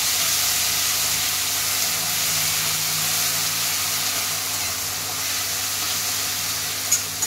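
Onion paste frying in hot oil with nigella seeds and chillies for a Bengali fish curry, a steady close sizzle and hiss running throughout, with a couple of faint clinks near the end.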